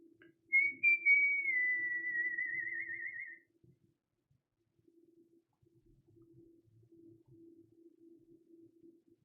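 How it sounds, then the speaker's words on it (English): A person whistles a short song phrase, a clear, steady, slightly wavering tone lasting about three seconds, close and alone, followed by quiet room noise. "Not the best song to whistle, but it's an example."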